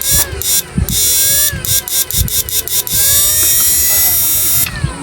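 A 99900-watt new-model inverter unit running on a repair bench with its blower whirring, a loud buzzing hum that repeatedly cuts in and out with clicks, while someone talks over it.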